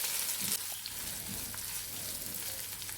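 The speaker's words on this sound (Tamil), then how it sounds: "இஞ்சி பூண்டு பேஸ்ட்டு சேர்த்த பிறகு அதோட ராஸ்மெல் போகிற வரைக்கும் நல்லா வதக்கி விட்டுக்கலாம்" Ginger garlic paste sautés in a pan for squid gravy, giving a faint, steady sizzle with a few soft scrapes and no voices.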